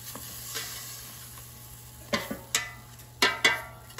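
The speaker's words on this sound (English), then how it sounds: "let's take out the air fryer basket and let's shake the leeks" Leeks being shaken and turned in an air fryer basket, a few sharp rustling, scraping bursts over a quiet background with a faint steady hum.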